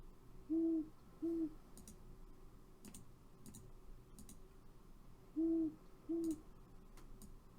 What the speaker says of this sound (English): We need one more double hoot over here, and then another double hoot.